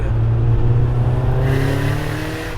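A Nissan Silvia S15 Spec R engine revving loudly up close, a strong droning tone climbing in pitch midway and then easing off, no voices.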